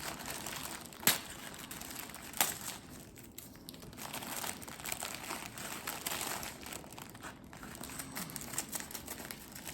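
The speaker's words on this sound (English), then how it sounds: "It's going to be a little bit of crinkling, but sorry." Crinkling of wrapping as an advent calendar gift for day 25 is opened, soft irregular rustles and crinkles close by, with a couple of sharper crackles standing out.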